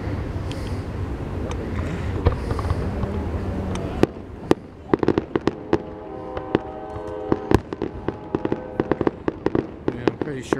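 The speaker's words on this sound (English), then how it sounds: "And all kinds of fireworks." At the 2018 Troy, Ohio fireworks show, fireworks rumble in a dense low roar, then crack in a scattered run of loud, sharp pops and bangs, with people's voices faintly in the background.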